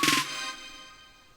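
A drop effect from a trap beat built in FL Studio opens with a bright, noisy burst and a brief stuttering tone. It then decays into a fading wash that thins out over about a second, with no talking.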